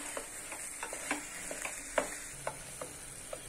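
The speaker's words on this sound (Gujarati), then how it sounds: "હું થોડું હલાવી લઉં" Lauki (bottle gourd) halwa is stirred in a pan, a soft steady sizzle under a series of light rhythmic taps and scrapes of a spoon against the pan, with no talking.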